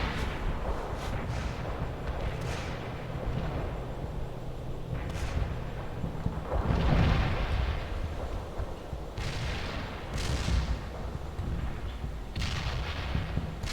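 Artillery rounds thunder in World in Conflict, a battlefield strategy game, during a fight over a bridge, with repeated deep booms and crackling blasts spread over a continuous low battle rumble, one heavier impact standing out midway.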